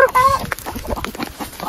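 Chickens cluck in a quick flurry of short, close calls with scuffling movement and brief voices mixed in.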